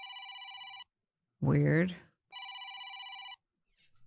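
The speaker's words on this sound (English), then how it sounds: "Where? Where's the phone?" Telephone ringing inside the video game Decadence: two clear electronic ring bursts about a second long each, separated by a short spoken remark from a nearby voice.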